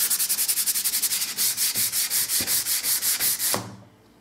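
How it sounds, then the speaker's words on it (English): Sandpaper, P180 grit, rubs over bin-primed drywall in a light sanding pass, the close scratchy strokes steady and rhythmic with a few louder knocks, stopping abruptly near the end. "give it a light sand"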